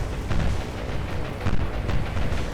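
Dull, rumbling booms and low thuds in a War on the Sea naval battle roll on continuously as torpedoes are dropped, loud and heavy with no break.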